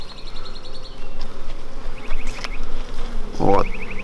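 Honey bees buzz loudly and steadily at an apiary hive while queens are being caged, a dense close drone with higher whining tones from individual bees passing near.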